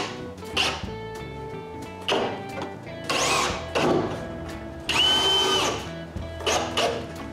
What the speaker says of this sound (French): je marque pour percer des trous en dessous et je les perce